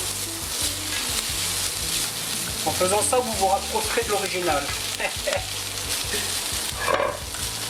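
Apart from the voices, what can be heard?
onions and bacon lardons frying in a pan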